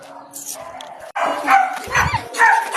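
Pet dogs at feeding time give short yips and bow-wow barks with a whimper or two, close by amid household clatter and people talking.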